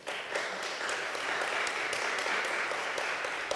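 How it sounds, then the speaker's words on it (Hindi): Warm applause from mourners at an Asian Fellowship memorial service, a dense and even patter of hands that stays fairly quiet and continuous throughout, heard on its own with no talk. "साइमन के लिए और जैनी के लिए ज़ोरदार तालियां।"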